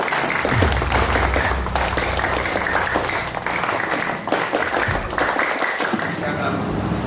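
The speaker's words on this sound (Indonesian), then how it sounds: "2 kali tepuk tangan, Pak." A group claps at a scout ceremony at a special-needs public school, a burst of applause filling the open field, with some talk mixed in over continuous crowd noise.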